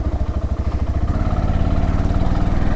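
A motorcycle engine throbs loud and close on a ride to Dhorpatan, its rapid pulsing beat holding steady and smoothing out into an even drone as the bike climbs.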